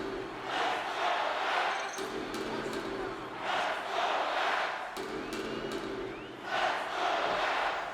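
A hockey arena crowd during a playoff overtime roars and chants in swelling waves that rise and fall about every three seconds, loud and massed, with some talk mixed in.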